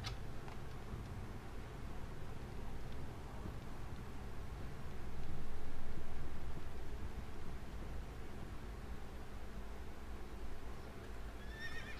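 A horse neighs amid a steady low rumble of ambient background noise, with a swell of sound near the middle and no talking.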